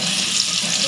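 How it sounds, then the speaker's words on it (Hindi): A spoonful of garlic-ginger paste sizzles in hot oil, giving a loud, close, steady hiss in one brief, unbroken burst. "ऑयल हमारा गर्म हो चुका है। तो हम इसके अंदर 1 चम्मच लहसुन अदरक का पेस्ट शामिल करेंगे।"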